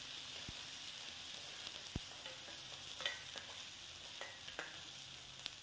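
Steady crackling sizzle of a garlic, onion and ginger paste frying in hot oil, with occasional sharper pops and a soft clink of a spoon near the pan.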